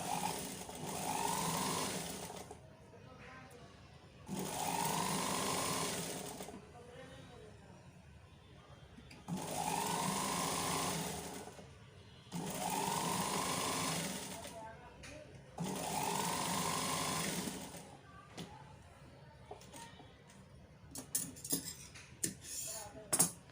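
A sewing machine stitches a garment sleeve in five separate bursts of rapid whirring, each a few seconds long, with short quiet gaps and light clinks of handling between them.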